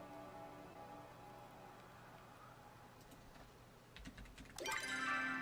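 Computer keyboard typing, with scattered soft key clicks over a steady low hum that grow into a louder, denser burst of tapping near the end.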